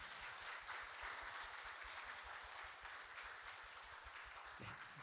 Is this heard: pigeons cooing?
no